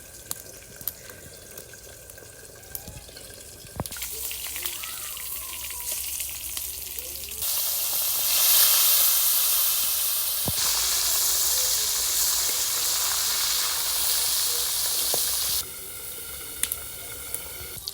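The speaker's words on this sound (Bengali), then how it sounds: "ফাঙ্গাস মাছ তেলে ভাজতে ভাজার সময় তেল ছিটকে গায়ে পড়ে" Pangas fish pieces frying in hot oil in a pan on a stove, a loud, continuous sizzle and hiss with scattered sharp spatters, growing fuller and stronger in the middle before easing, with no voices.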